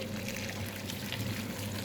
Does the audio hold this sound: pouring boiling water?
yes